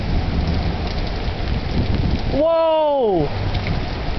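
Heavy thunderstorm rain roars as a dense, steady wash, with a low rumbling undertone from nearby thunder. A person briefly exclaims partway through.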